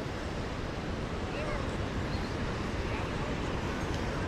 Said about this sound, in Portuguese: A maré tá enchendo.